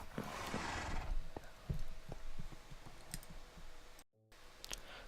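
In the video game Minecraft, a horse neighs and hooves clip-clop, with scattered clicking like keyboard taps alongside.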